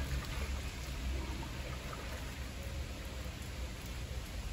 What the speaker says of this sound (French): Ça fait du bien de la pluie